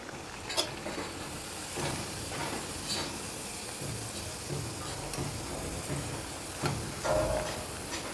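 Dough pieces drop into hot oil one after another and fry with a continuous bubbling sizzle, close by and moderately loud, with occasional splashes and clinks of a utensil.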